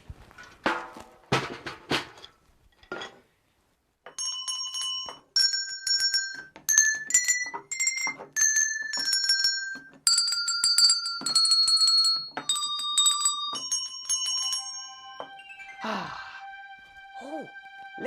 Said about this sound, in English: I also found some bells.